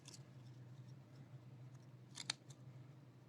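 Close, faint snips of scissors cutting dyed paper apart, a brief cluster of crisp clicks over a soft steady background hum.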